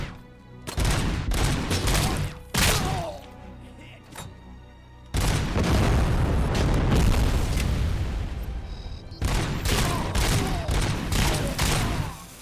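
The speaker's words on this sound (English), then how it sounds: "Crap grenade." A grenade explodes in the game RoboCop: Rogue City, one heavy boom that rolls straight into a long stretch of loud gunfire and blasts, with short pauses and a voice speaking now and then.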